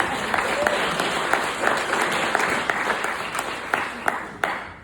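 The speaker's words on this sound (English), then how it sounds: "let's take a clap on that, right?" An audience at a keynote talk and performance applauds steadily, dense clapping with sharper individual claps standing out, loud and continuous across the whole stretch.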